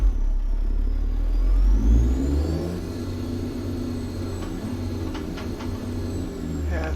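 Simulated heavy truck in American Truck Simulator, a Peterbilt 389, with its throttle stuck so the engine drones at high idle, a steady mid-pitched rumble with faint whir, loud and continuous without speech.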